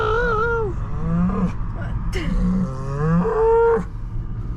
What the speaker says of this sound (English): Bye, cow.